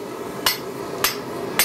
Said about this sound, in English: So I'm now gonna take a drift, and just throw that drift in the hole.